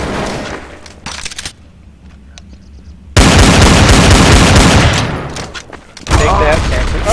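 Rapid bursts of automatic shotgun fire in Counter-Strike: Source, loud and dense in two volleys separated by a brief lull, with faint voices talking between shots.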